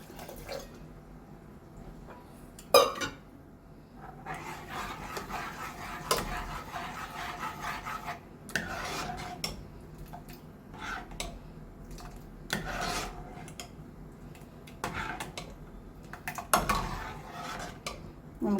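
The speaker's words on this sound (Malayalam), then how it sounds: "നന്നായി ഇളക്കി കൊടുക്കണം." Semiya custard with rava and sugar is stirred in a pan, giving irregular scraping and rubbing strokes with occasional sharp knocks of the spoon against the metal. No one speaks.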